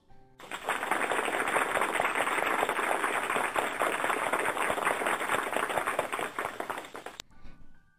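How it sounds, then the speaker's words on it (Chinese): Sustained applause from an audience fills the room, dense and loud, rising after a quiet start and continuing for several seconds before cutting off abruptly. "刚才按下的掌声现在完全控制不住了"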